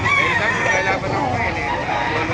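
A rooster crows at a busy chicken market, a sustained call heard over the dense chatter and clucking of other fowl around it.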